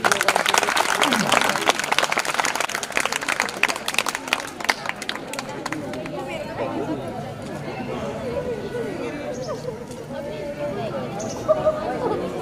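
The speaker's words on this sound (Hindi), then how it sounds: "जोरदार ताली।" Applause from an audience at a school event for a state-level maths olympiad and district-level yoga olympiad, loud and dense for the first five seconds, then thinning into scattered claps under crowd chatter and background voices.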